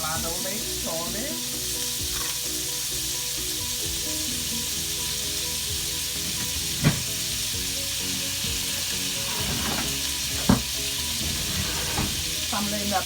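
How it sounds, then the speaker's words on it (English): Butter melting in a pan over high heat, giving a loud, continuous crackling sizzle with busy popping, plus a couple of brief sharp knocks, with no talking. "So I'm letting that butter melt."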